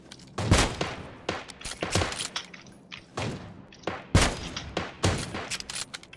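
Gunfire in the PUBG Mobile battle mode rings out as a series of sharp, loud shots in irregular bursts, some single and some in quick pairs, with little else between them.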